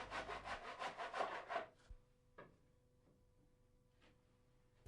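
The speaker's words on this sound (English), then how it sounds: "Always a good idea to use a tenon saw when cutting small decorative timbers like this." A tenon saw makes a quick series of close, rhythmic rasping strokes through a small decorative timber bead, then stops, leaving a quiet room with a few faint knocks and taps afterward.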